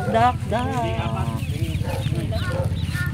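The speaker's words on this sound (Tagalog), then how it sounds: "Ayan po ang aming duck." A duck bought at a local market calls out in quick, repeated, high-pitched cries, close by and persistent, with people talking around it.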